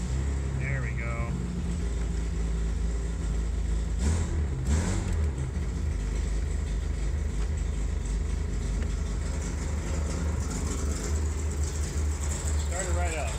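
A Chevrolet Corvair engine runs and idles with a steady, continuous mid-pitched rumble close by, with a few brief louder knocks partway through and people talking over it.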